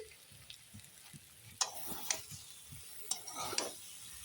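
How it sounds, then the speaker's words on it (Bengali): Boiled kabuli chickpeas being stirred and fried in a pan, a faint sizzle with soft scrapes and a few sharp clinks of a utensil against the pan, close but quiet. "নেড়ে নিয়ে দেখাই ভালো করে ছোলাটা আমি কষিয়ে নিয়েছি"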